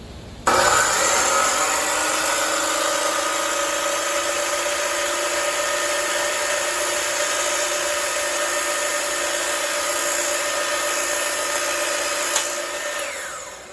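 A power saw spins up and cuts through wooden mirror trim molding in one long, steady high whine, loud and close, then cuts off near the end with no talking.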